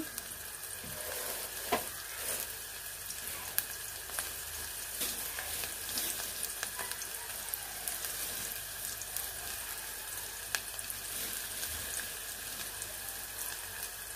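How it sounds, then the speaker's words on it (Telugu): Tempering spices fry in oil in a pan, a steady sizzle and crackle, a continuous hiss with small pops throughout and no talking. "తాలింపు ఫ్రై అవుతుందండి."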